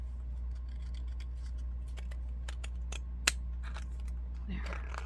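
Scissors snip through fabric scraps, a run of light close clicks and cuts over a steady low hum, one sharp louder snip near the middle and a soft rustle at the end.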